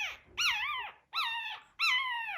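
A young Schnoodle puppy squawks in three drawn-out, high, wavering cries, close and loud, separated by brief pauses with no talk.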